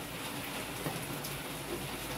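Steady rain falling outdoors, a constant even hiss of drops without pauses, moderately loud and with no talking.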